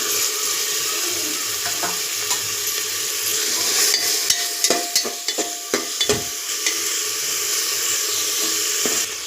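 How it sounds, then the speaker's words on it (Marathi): A spoon stirs a sprouts masale bhat mixture with finely chopped potato in a pot, scraping and sloshing steadily, with a cluster of sharper knocks and clicks midway. "तर हे सर्व छान मिक्स करून घेऊया."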